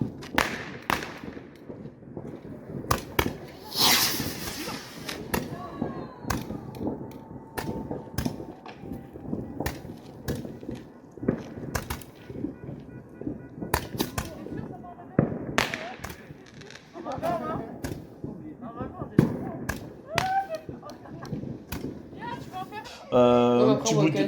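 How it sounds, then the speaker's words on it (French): Small store-bought fireworks and firecrackers go off for New Year, a dense run of sharp cracks and pops with whistling rockets, loud and close, while people talk in French throughout. "petit feu d'artifice qu'on a acheté"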